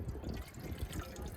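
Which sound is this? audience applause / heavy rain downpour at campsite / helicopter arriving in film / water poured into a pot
water poured into a pot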